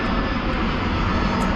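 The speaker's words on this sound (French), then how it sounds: "Oui, il y a des avions ici." An airplane flies overhead near a boat, a steady broad engine roar that stays loud and even for the whole short stretch.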